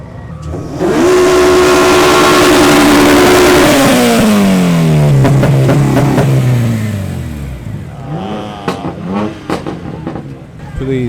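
At a car meet, a single-turbo car revs hard in one long, loud pull, its pitch climbing and then sliding down as the engine spools off, followed by a few shorter revs and crackles with crowd noise behind.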